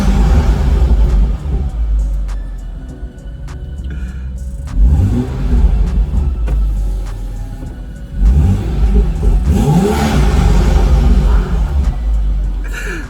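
A BMW F30 335i with an N55 engine on a stage 2 tune, running 91 octane, rumbles steadily while driving, with two strong acceleration pulls that climb in pitch and then ease off.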